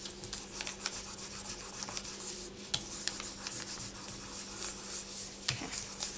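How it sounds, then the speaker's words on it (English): Polymer clay sheet being burnished between paper, giving a steady close-up rubbing and scraping sound with a few sharper scuffs, a faint steady hum underneath. "And then I want you to burnish, and this is just going to get rid of any lines or creases that might be on it."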